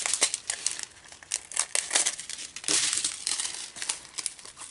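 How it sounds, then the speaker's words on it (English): Scissors cutting open a small plastic bag of diamond painting drills, close up: continuous crinkling and rustling of thin plastic with several sharper snips and crackles, no talking. "and I'll open the bag up"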